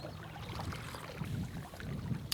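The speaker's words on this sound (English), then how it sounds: "So the wind's picking up." Wind gusting over a lake during a canoe camping trip in Voyageurs National Park, a steady broadband rush and low buffeting against the microphone that keeps up throughout with slight surges.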